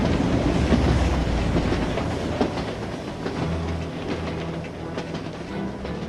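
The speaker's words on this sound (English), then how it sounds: "The train comes into the station, LGB, a model train, a miniature world" An LGB model train rolls into the station with a continuous rumbling clatter of wheels and a low hum, steady and fairly close, and no one speaks.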